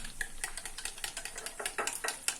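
A spoon stirs a yogurt and fruit chaat mixture in a bowl, giving soft, steady clinks and scrapes that recur at a brisk rhythm, close and fairly quiet, with no talking.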